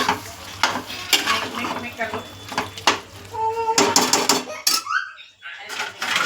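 Beef curry being stirred in a pot with a spoon, a steady run of close scraping and clinking strokes against the metal with a light sizzle underneath, ending in a few louder knocks.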